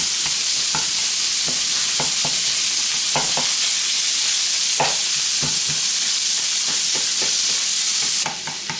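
Sausage sizzles steadily in a hot pan for a breakfast casserole while a spatula breaks it up, with repeated scraping clicks against the pan throughout; the sizzle drops slightly at the very end.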